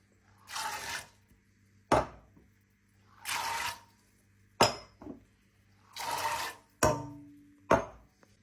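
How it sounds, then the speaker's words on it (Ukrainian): Water poured with peas from glass jars into a saucepan while canning peas, with repeated short splashing pours alternating with sharp glassy clinks, four pour-and-clink cycles, close and quiet with no talk. "Потім все, все це переливаю в каструльку."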